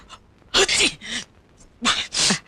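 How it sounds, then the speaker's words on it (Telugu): Two sneezes, each a sharp breathy burst with a short intake before it, close and loud, separated by a brief pause. "అయ్యో తుమ్ముతున్నాడే."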